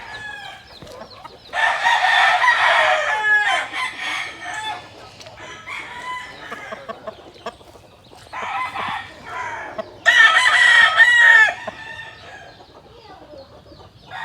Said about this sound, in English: We raise heritage breed chickens.